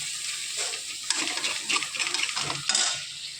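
A ground spice paste is stirred through a frying pan while cooking an egg dish, with soft scraping and light sizzling that swell in a few louder strokes; no talking.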